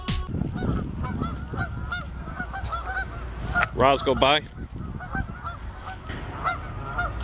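A flock of geese honks loudly in a burst of repeated calls as dogs put them to flight, with a voice calling out commands to the dogs before and around it outdoors.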